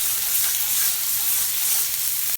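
Pork tenderloin searing in a hot pan, a loud, close, continuous hiss and sizzle with no voices.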